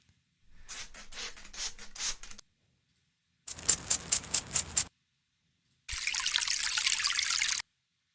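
Three separate bursts of trickling, splashing water resemble someone urinating, the second with a rhythmic pulsing dribble and the last a brighter, steadier hissing stream, each stopping abruptly with silence between.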